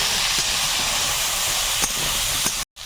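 Taro pieces frying in hot oil with salt and turmeric in an outdoor Sundarban village kitchen, giving a loud, steady sizzling hiss throughout with a short cutout near the end.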